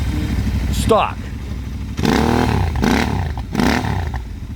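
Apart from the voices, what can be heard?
Royal Enfield motorcycle engine running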